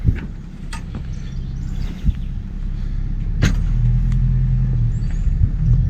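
A heavy engine rumbles steadily nearby with a low drone, joined by occasional clanks and knocks, no voices.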